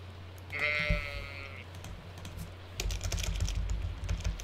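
A single short sheep bleat in Stardew Valley, synthetic-sounding, followed by soft clicking and tapping noises.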